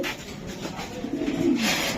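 Racer pigeons coo in a low, throaty murmur close by, the soft rolling calls swelling slightly toward the end over a steady background hiss.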